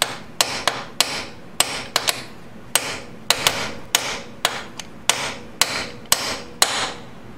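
A hammer strikes repeatedly to seat a ball bearing in a 2002 BMW K1200RS final drive: about sixteen sharp, close metallic blows in uneven pairs and singles, with no talking.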